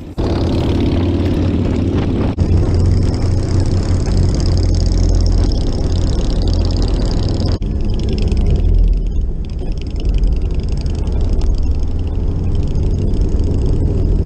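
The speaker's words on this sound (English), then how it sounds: "The exhaust gives the Harley that very familiar deep sounding rumble." A deep 1997 Harley-Davidson Heritage Softail exhaust rumbles loudly and steadily throughout, a thick low drone with no talking.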